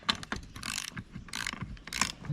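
A ratchet tightens an 18mm nut on a seatbelt part of a C5 Corvette: several short bursts of rapid pawl clicking, close and fairly quiet, with no talking.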